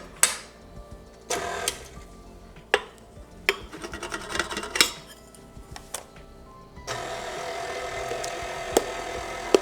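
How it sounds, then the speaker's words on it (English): A spatula scraping around a stand mixer bowl while strawberry cake batter is mixed, heard as repeated close, sharp scrapes and rubbing strokes with metallic clinks, followed by a steadier rasping stretch near the end. "My bowl does not get to the bottom very well, so I really have to scrape this stand mixer a lot."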